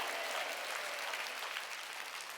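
A church congregation claps hands together in a dense, sustained burst of applause that continues evenly throughout at moderate volume.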